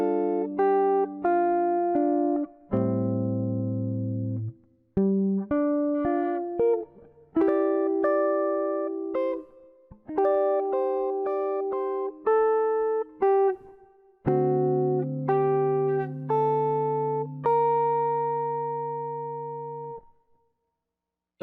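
Fingerstyle guitar plays measures five through eight of a jazz standard: clear plucked chords and melody notes ringing in phrases with brief gaps, close and steady with no voices.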